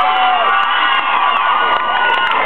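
Festival audience at a folk festival near Glastonbury, with young voices among them, cheering and shouting together, loud and dense without a break.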